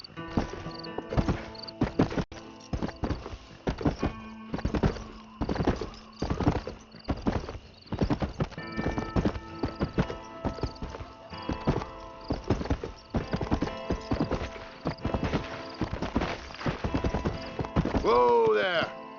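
In the Red Dead Redemption video game, horse hooves clip-clop in a steady trotting rhythm throughout, close and clear, with someone talking over them and a horse whinnying near the end.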